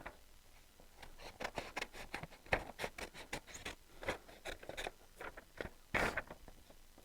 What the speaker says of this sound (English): And we're going to cut it out with scissors.